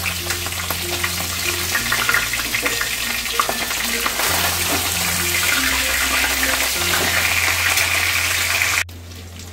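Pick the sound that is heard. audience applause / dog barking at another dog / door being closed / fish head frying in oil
fish head frying in oil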